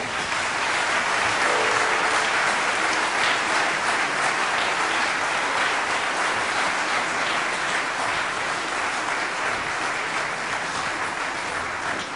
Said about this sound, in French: Vous pouvez encore applaudir les enfants.